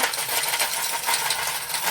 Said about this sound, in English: Let me just sort these Allen keys out for you.